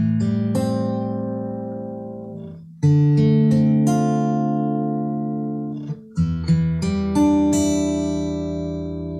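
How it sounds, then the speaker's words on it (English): Guitar rings out a slow sequence of minor 7th chords, each strummed and left to sustain and decay before the next, three clear chord changes, close and alone with no voices. "now it's time to plunge into minor chords, the melancholy of minor chords, minor 7th chords in this particular case"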